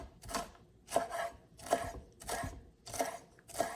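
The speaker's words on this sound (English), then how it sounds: "you can just cut them up a little bit thinner so they don't feel like they're biting into like a big giant piece of scallion" A knife slices scallions on a cutting board in a steady rhythm of about six crisp chops, each with a sharp board knock, close and clear with no talking.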